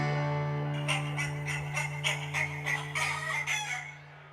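Chicken clucks and crowing-like calls woven into a song, repeating in rhythmic bursts over a steady sustained musical drone, fairly loud and close with no talking.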